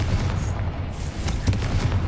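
A Confringo blast spell going off in Hogwarts Legacy, a short booming burst with a low rumbling tail over muffled game ambience.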